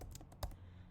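Keys on a computer keyboard tapped in a short burst, several quick soft clicks with one sharper press near the middle, heard close and alone.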